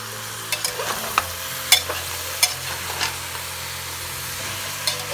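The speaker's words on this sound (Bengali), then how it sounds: "এইবার আঁচটা কমিয়ে অল্প আঁচে এটাকে ভালো করে একটু নাড়াচাড়া করব।" Eggplant pieces cook in a little oil over very low heat while being stirred for a spiced eggplant dish. A steady soft sizzle runs under scattered close scrapes and taps of the spatula, with no speech.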